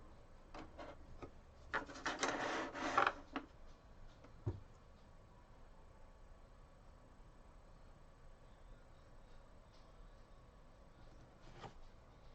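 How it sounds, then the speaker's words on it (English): Colored pencil burnishing in small fast circles on paper, a faint close scratchy rubbing that swells for about a second and a half, with scattered light taps around it. "I'm doing small circles and I'm being quite fast as I'm burnishing it"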